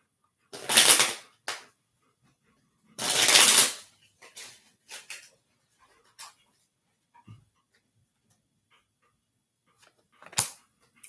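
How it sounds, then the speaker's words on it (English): Tarot cards shuffled by hand in a few short, crisp bursts of riffling and flicking, with quieter card taps and rustles in the gaps between, close and alone with no talk. "I'm gonna shuffle better."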